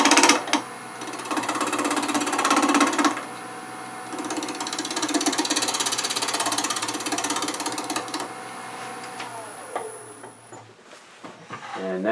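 A lathe whirs steadily while a tool trims the end of a spinning wooden sphere in a sphere-cutting jig, a rough scraping chatter that pauses briefly and then winds down near the end.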